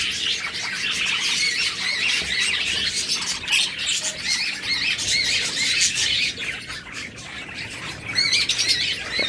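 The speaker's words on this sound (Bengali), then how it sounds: "দেখুন হিউজ পরিমাণ বাজবিগার পাখি আমাদের কাছে রয়েছে" Many budgerigars kept together at a breeder's sale, squawking and chirping continuously as a dense, busy chorus of shrill calls with no talking.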